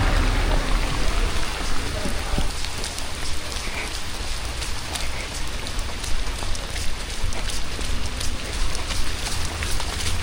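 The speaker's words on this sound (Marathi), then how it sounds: "आम्ही पूर्ण पावसात भिजत पूर्ण हॉटेलवरती आलेलो आहोत." Heavy monsoon rain pours steadily in Mahabaleshwar, a dense, continuous wash of noise that stays loud and unbroken throughout, with a faint voice briefly present beneath the downpour.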